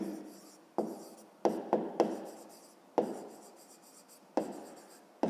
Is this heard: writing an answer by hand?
yes